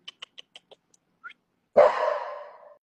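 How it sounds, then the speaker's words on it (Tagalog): Dogs bark in a brief, loud outburst: a single harsh bark that trails into a drawn-out, whining tail after a few faint, quick clicks. No one talks. "Ang ingay naman ng mga asong yan,"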